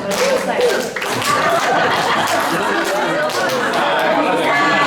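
A group at a church family retreat does a rhythmic cheer clap, scattered clapping mixed with chatter and laughter, with voices talking loudly over it throughout.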